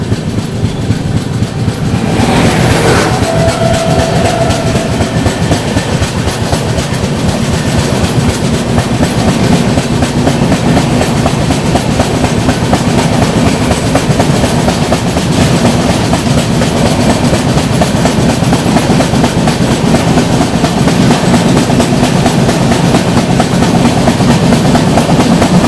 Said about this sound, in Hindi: हम सफ़र सुपरफास्ट एक्सप्रेस दोस्तों।